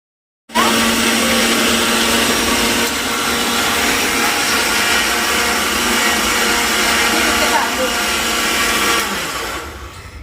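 A kitchen mixer grinder whirs loudly and steadily while grinding rice coarsely for kheer, starting abruptly and running for several seconds before winding down, with some voices in the background.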